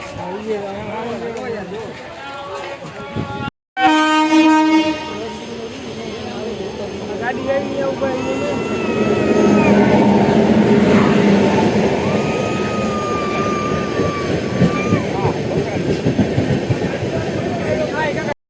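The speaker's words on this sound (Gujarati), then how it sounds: "એક ટ્રેન વહી ને હવે બીજી ટ્રેન આવે" A train rumbles past up close with a rhythmic clickety-clack of wheels on rails, loud and sustained, while people talk over it.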